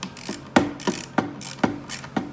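A 3/8-inch Pittsburgh ratchet tightens a loose chair, giving a close, steady run of sharp clicking bursts, about five in a row, with a faint ticking between them.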